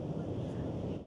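Strong wind buffeting an outdoor microphone, a thick low rumble that gusts steadily and then briefly drops out at the end.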